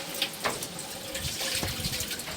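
Grape must, left to settle overnight, is strained again into a pot for making molasses. A close, steady trickle and splash of pouring liquid runs through the short stretch.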